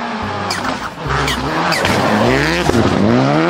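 A toy race car gives off a rising, revving engine whine with a steady low drone underneath, ending in a brief squeal. The sound is close and fairly loud, with no talk over it.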